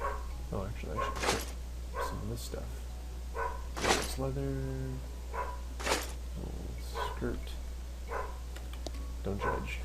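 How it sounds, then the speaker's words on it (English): A pet dog barks a few times in the background of a room while a person talks steadily over it; the barks are short and muffled, partly buried under the voice. "my dog barking in the background."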